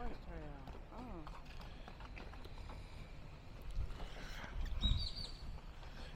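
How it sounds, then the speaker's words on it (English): A horse walks along a trail outdoors, soft irregular hoof clops in the mid-distance with birds chirping and people talking nearby, growing slightly louder toward the end. "Oh, he's on a horse trail."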